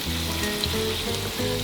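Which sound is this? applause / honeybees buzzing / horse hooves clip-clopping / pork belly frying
pork belly frying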